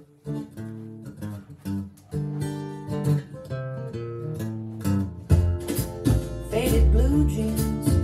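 A country song recording, a full band with vocals and steady rhythm, playing continuously and fairly loud with no talking over it.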